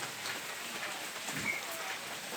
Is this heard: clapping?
no